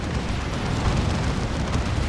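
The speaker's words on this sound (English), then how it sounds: "that's a big zap gun shot" A heavy shot impact in the Dawn of War 2 real-time strategy game, a big zap gun blast from an Ork battle wagon, sounds as a dense, loud, sustained roaring boom that fills the short stretch with no talk over it.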